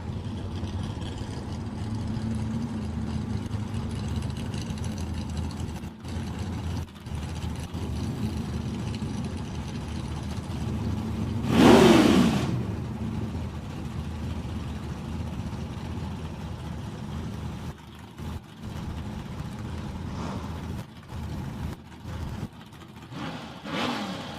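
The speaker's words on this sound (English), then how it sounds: "Couple of small blocks here, picking revs up. That lovely sound of just a carburetted small block." Carburetted small-block Chevrolet V8 engines idling and revving at a drag strip test-and-tune night, with a loud, sharp rev burst near the middle rising above a rumbling idle background.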